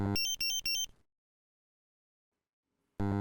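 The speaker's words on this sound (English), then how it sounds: "The main battery alarm indicating that the battery is about to run flat is signalled by the audible, visual and vibration alarms" Drager X-am 2500 gas detector sounding its low battery alarm: three sharp, loud electronic beeps in quick succession, a pause of silence, then a fourth beep starting again, clean with no talk.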